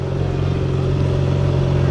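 A steady, loud engine drone with a low rumble and clattery texture from professional drift cars at a D1GP event at Tsukuba Circuit, with no voices.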